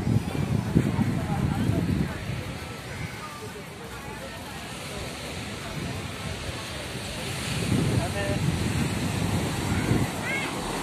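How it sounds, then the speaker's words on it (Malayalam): Sea waves washing onto a Kerala beach with steady wind buffeting the microphone, surf swells rising and falling in two louder surges, continuous and fairly close. "കടൽ. ഇതാണ് കടൽ."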